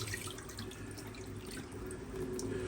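Cloudy, chalky-white water being poured out of a pan or bowl while cooking, a steady splashing pour that runs continuously at moderate volume, much like a running tap, with no talking.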